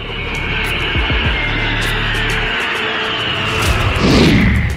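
An Indian Air Force Hawk jet roars past overhead during an air exercise, its engine noise swelling loud then sweeping downward in pitch as it flies away.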